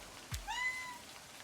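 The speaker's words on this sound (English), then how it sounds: "Meow." A single short cat meow from the interactive horror novel game Livber: Smoke and Mirrors, a clear rising then falling tone heard alone against a faint background.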